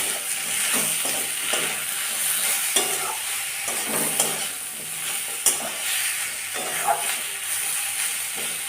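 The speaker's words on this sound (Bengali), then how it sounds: "দিয়ে সব কিছু দিয়ে আবার নাড়তে লাগলাম" Vegetables and spices frying in a pan for shukto, stirred with a spoon: a constant close sizzle broken by repeated scraping strokes and occasional clinks against the metal, no talking.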